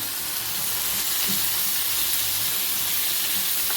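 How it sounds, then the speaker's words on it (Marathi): Coconut milk hits a hot pan of sautéed masala paste for paneer butter masala, giving a steady, close sizzling and frying hiss with faint stirring, unbroken for a few seconds with no talk. "तर आता ह्याच्यामध्ये हे मी नारळाचं दूध घालते"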